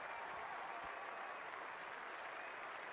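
A large cricket crowd at Lord's in London applauds a century, a dense, steady wash of clapping that fills the whole stretch without pause.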